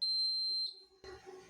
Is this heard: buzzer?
yes